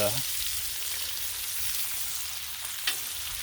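Bacon strips sizzling on a Blackstone griddle, a steady close crackling hiss throughout with one brief sharper pop near the end.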